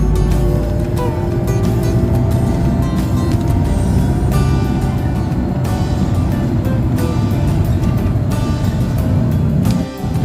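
Steady, dense road traffic on the Tijero-Tanza bypass road in Cavite, a continuous loud roar of engines and tyres with vehicles passing close by, no talking.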